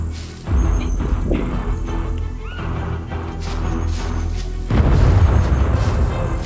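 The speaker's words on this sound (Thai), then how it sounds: "เยี่ยมมากปาระเบิดโดนใส่ตัวเอง" A deep booming grenade blast in the game SCUM with a rumbling tail, followed a few seconds later by a second heavier burst of rumble, loud over steady game background noise.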